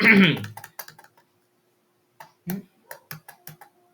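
Computer keyboard keys click while someone works in Tally accounting software. A voice speaks briefly at the start, then there is a pause, then a quick run of crisp, close taps.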